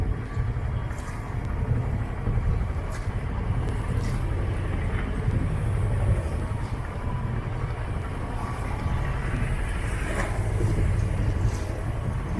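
Sailboat engine running while motoring under sail, a steady low drone with wind noise over the microphone and faint water sounds.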